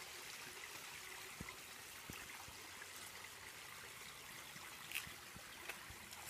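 Small creek fed by a waterfall and pond, flowing steadily as a soft, continuous trickling wash, with a few faint knocks and ticks over the water.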